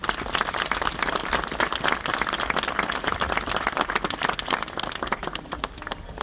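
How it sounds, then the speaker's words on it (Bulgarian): Audience applause at the opening ceremony for construction of the Azimut 3 residential quarter in Burgas, a dense, steady wash of many hands clapping that fills the whole stretch at even loudness. "Аплодисменти."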